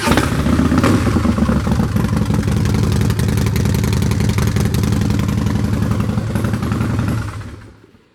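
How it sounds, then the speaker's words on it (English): A 2014 Harley-Davidson Breakout Screamin' Eagle with a 110 cubic inch V-twin, high-flow intake and drag pipes rumbles loudly and steadily through its exhaust, then fades out toward the end with no talking. "Let's play the pipes one more time."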